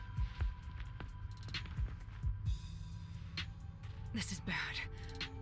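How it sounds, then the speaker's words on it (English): A heartbeat sound effect in the Rain Code video game, deep low thumps pulsing at a steady rhythm, with other game sounds layered over it. "His heartbeat."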